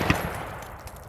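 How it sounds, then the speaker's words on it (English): A single sharp 9mm frangible round is fired down at a Master Lock padlock, a loud close crack followed by a quick fading tail. "we're gonna shoot down on this padlock here"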